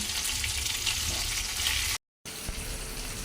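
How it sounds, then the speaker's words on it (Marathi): Chicken frying in a pan at home, a loud continuous close sizzle with a brief silent break partway through. "आता आमचं शेफ चिकन फ्राय करते"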